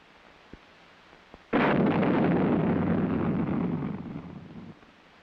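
Honest John artillery rocket launching from its rail, a sudden loud roaring blast that holds for about three seconds before fading, preceded by faint clicks.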